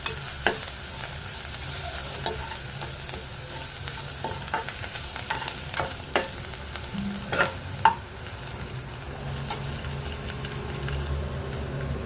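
Potato, green peas and capsicum sizzle and fry in a pan, with steady crackling and frequent sharp scraping and clinking strokes from stirring close by, with no speech.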